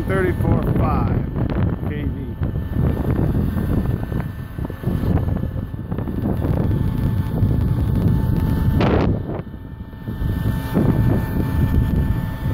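Strong wind buffets the microphone outdoors near a 34.5 kV live power line in the desert, roaring loud and continuous with a brief lull, while people talk over it.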